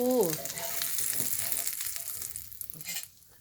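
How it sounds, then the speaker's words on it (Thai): A Thai omelette with shallots frying in hot oil, a loud steady sizzle that fades near the end, with no talk over it. "ไข่เจียวหอมแดง ไข่เจียวหอมแดงค่ะดูค่ะ"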